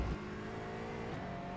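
An Aston Martin GT4 race car in iRacing accelerates out of a banked corner at Mosport in third gear, its engine note a steady, rising drone.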